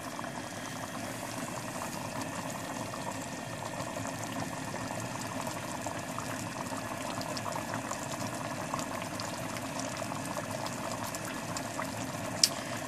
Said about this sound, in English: I got the water boiling